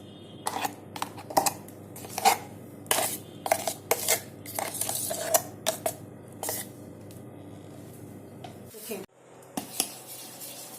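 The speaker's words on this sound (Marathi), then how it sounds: "मिश्रणाला 15 ते 20 मिनिट फेटून घेऊया।" Urad dal batter for dahi vada is whisked by hand in a pot, producing quick, uneven clinks and scrapes of the utensil against the metal, with a few brief pauses.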